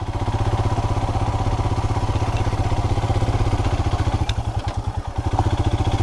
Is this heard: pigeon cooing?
no